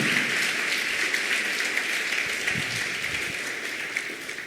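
Church congregation clapping for Jesus during a sermon, a steady, fairly loud wash of applause from many hands that holds for several seconds and eases slightly at the end.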